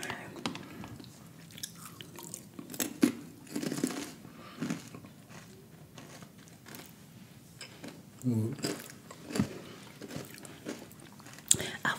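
Slow chewing of food up close, with soft wet bites and crunches spaced out over several seconds, quiet against low background noise, and a brief spoken exclamation.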